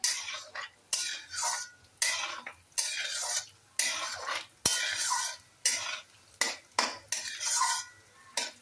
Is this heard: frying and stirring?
yes